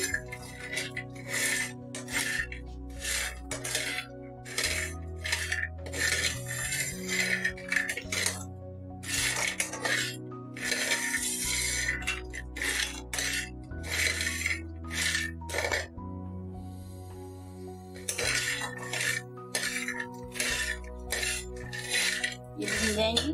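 Onion baris roasting in a pan are stirred with a metal spoon, giving continuous scraping and clinking against the pan with a low background hum, no talking.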